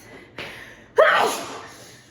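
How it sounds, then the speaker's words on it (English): A single sharp sneeze bursts out after a softer inhaled gasp, close and loud, with nobody talking. "I'm gonna sneeze."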